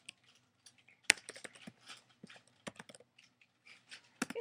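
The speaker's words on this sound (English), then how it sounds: "I'm going to type that in and hit enter" A web address is typed on a computer keyboard, close irregular key clicks in quick bursts with brief pauses and one sharper tap near the start.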